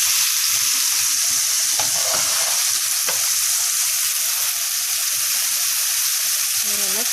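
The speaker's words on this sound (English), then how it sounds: "the steak is looking good. Needs to cook a little longer." Steak frying in a pan, a steady loud sizzle and hiss that runs throughout, with a few faint scrapes and stirs over the top and no talk.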